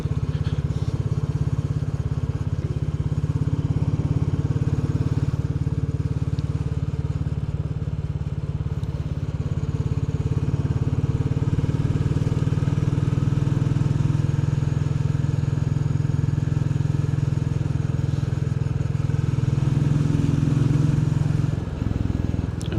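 A Royal Enfield Bullet 350 rides along quiet country roads past fields and a village on a hot day, its single-cylinder engine holding a steady, deep, loud thump with wind rush throughout and a slight change in pitch near the end.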